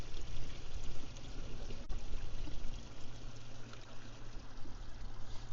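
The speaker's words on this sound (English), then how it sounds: "you see the water coming up from the pond now" Water welling up and pouring from a filthy 25,000-gallon koi pond during a filter flush: a continuous rushing, splashing gurgle with a low steady hum underneath, close and fairly loud, with no speech.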